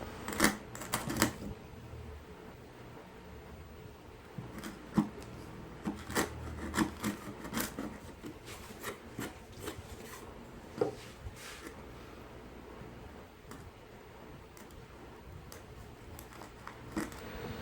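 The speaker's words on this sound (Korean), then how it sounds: "톱질이 완료된 후 끌로 톡톡 쳐내면 쉽게 만들어집니다." A chisel taps waste wood out of a sawn joint, making a run of sharp, close wooden knocks scattered irregularly over scraping and rubbing, loudest near the start and then sparser.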